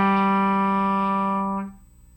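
A single sustained electric guitar note from a fill rings clearly with strong harmonics for about a second and a half, then is cut off abruptly, leaving a faint decaying tail.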